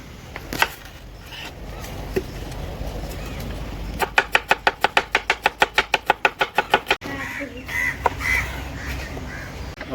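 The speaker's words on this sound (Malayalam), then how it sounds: "അപ്പോൾ ഉള്ളി അരിയാം കേട്ടോ നമുക്ക്" A knife chops onions on a board for a fish biryani, producing a quick, even run of about eighteen crisp taps in the middle, set among scattered knocks and light kitchen background noise.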